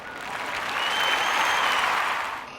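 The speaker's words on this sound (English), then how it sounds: "Please give our Feather Award winners a round of applause." Applause at a primary school assembly for Feather Award winners: a sustained burst of many hands clapping that swells, holds steady, then fades out over a couple of seconds.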